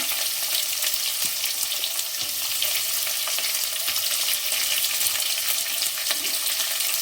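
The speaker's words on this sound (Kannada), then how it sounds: "ಈರುಳ್ಳಿ ಸ್ವಲ್ಪ ಫ್ರೈ ಆಗಬೇಕು" Onions sizzle steadily in hot oil for a vegetable pulao, a close, even frying hiss with faint stirring scrapes throughout and no voices.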